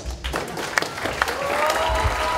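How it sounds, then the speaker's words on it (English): An audience claps at a certificate presentation ceremony, a fairly close, dense round of applause with scattered sharp claps, and faint voices mixed in. "I think they deserve another round of applause."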